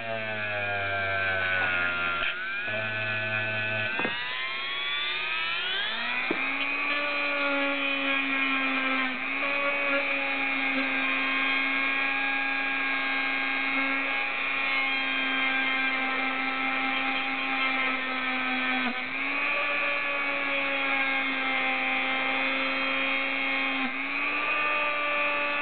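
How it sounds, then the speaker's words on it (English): A motorized polishing wheel buffs metal on a Spyderco knife's backlock, giving a steady high whine that shifts pitch as the load changes, close and continuous, with no voices. "You can see the metal coming off and my polishing wheel turning black."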